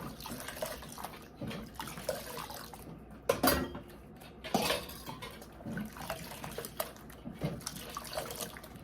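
Dishes and cutlery are rinsed under running water at a sink, with soft splashing and intermittent clinks and knocks of utensils, fairly quiet and close.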